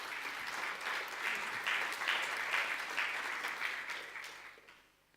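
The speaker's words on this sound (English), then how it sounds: "You can give her a round of applause" A room full of people clapping in steady applause for Jackie at a mission report gathering, sustained and even before fading out at the end.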